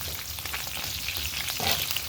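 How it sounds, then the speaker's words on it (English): Ground beef sizzling in a pan, a close, continuous crackling hiss with faint stirring scrapes throughout. "our meat has begun frying up."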